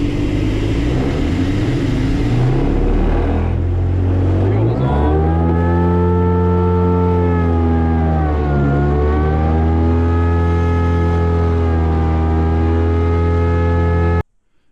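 A self-launching glider's engine starts up and then runs steadily, a loud sustained drone with a rising and falling pitch that sweeps down and back up midway before cutting off abruptly at the end.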